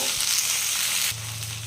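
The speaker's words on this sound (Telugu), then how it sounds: "మీడియం మంట పెట్టుకొని వీటిని కొద్దిగా మగ్గించుకుందాము" Okra frying in oil over a medium flame gives a steady, close sizzle with a soft hiss, and a low hum comes in near the end.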